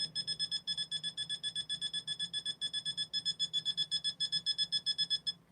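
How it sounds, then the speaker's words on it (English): An electronic alarm beeps in rapid, evenly spaced pulses, roughly five per second, steady and fairly loud with no voices over it. "You don't hear the beep beep beep."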